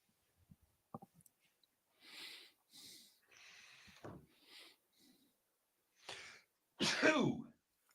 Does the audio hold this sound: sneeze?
yes